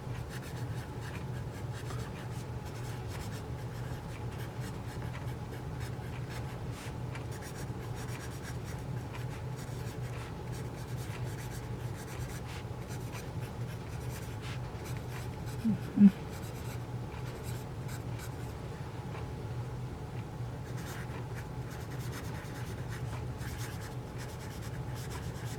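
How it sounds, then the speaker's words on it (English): Vintage Faber Castell American No. 2 pencil writing on paper, a steady soft scratching that continues throughout, close and quiet, with one brief louder tap partway through. "we'll get to writing with this Faber Castell American pencil"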